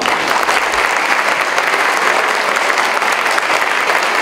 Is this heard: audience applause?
yes